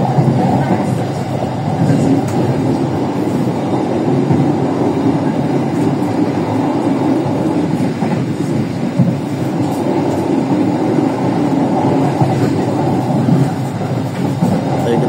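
An Indonesian economy-class passenger trainset runs through Kedundang station, a steady, continuous rumble of wheels and carriages with faint rhythmic clatter throughout, moderately loud and unbroken.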